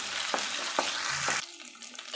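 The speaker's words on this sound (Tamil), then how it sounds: "இஞ்சி பூண்டு பேஸ்ட் சேர்த்துட்டு பச்சை வாசனை போகிற வரையும் நல்லா வதக்கிக்கோங்க." Ginger garlic paste sautéing in a hot pan for a vegetable kurma, a close hiss with three spaced scrapes of a spoon, then the sizzle drops abruptly to a quieter, thinner fry.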